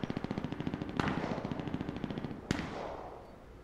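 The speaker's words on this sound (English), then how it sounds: "Pistol versus machine gun." Machine gun and pistol firing in the video game Cuisine Royale, a fast, even burst of loud shots with two sharper single cracks standing out, the last one trailing into a fading echo.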